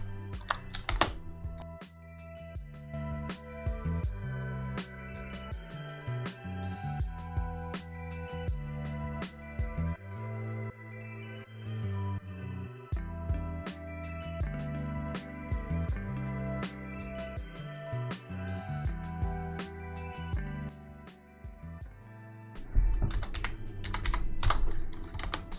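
Keys on a computer keyboard are typed in steady, close bursts of crisp clicks for a Blender rendering session, with spacebar thumps and shortcut presses mixed in and no speech over the tapping.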